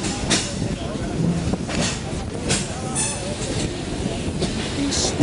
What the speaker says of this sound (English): The train's not going that fast right now